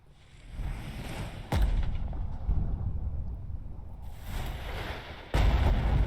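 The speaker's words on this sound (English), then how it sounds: "Damn it, where's this coming from? It's artillery." Artillery fire in the war game Burden of Command: two sudden loud blasts, one early and one near the end, each followed by a rumbling roll over steady wind-like battlefield noise.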